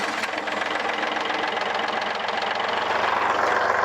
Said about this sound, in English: We're going to start the tractor.